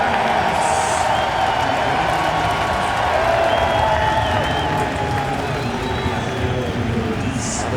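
A stadium crowd cheers steadily at a Toronto FC Canadian Championship soccer match against Montreal Impact, a dense continuous roar with a commentator talking over it.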